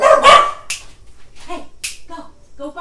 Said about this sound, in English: Go bark in the backyard.